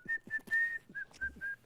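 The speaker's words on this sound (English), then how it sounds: "can you whistle? Whistle for me." A person whistles a short series of clear, high notes in an uneven rhythm: quick short toots, one longer held tone, then several more brief whistles, close up with no talking.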